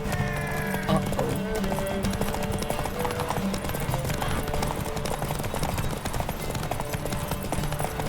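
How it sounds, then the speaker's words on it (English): Horses gallop hard in a race in the video game The Witcher 3, with steady overlapping hoofbeats, a brief whinny near the start, and a dense, loud mix of game music and ambience throughout. "Grab your bridles and hang on to your saddles! Ride on for Freya"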